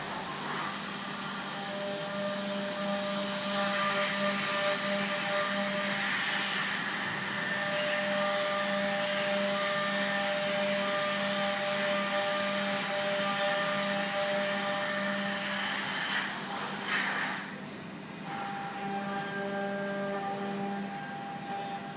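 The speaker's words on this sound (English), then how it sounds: "Now we're going to move on to some pocket roughing, but we're not just going in straight, we're going to use 5-axis moves." A 5-axis CNC milling machine rough-cutting a pocket: a steady high-pitched whining hum with sustained tones, continuous and fairly loud, with a brief shift in pitch near the end.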